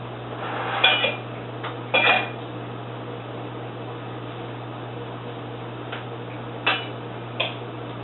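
A knife cuts into a Spanish meatball on a plate, giving a few short, quiet clinks and scrapes of metal on ceramic, spaced apart over a faint steady background, with no talking.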